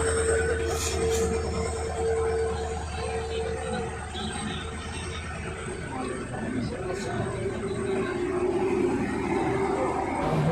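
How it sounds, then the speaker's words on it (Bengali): A long train from Bihar rumbles into Lumding station, steel wheels squealing and clattering continuously, with some voices faintly in the background. "বিশাল লম্বা ট্রেন, বিশাল।"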